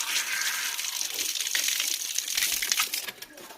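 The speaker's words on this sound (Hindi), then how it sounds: "ये देखिए यहाँ पे डोबा गांव वालों की धारा, जिसे हम डिग्गी बोलते हैं" Water pouring steadily from a village spring outlet in Doba village, a continuous close hissing gush with slight splashing variations, fading near the end.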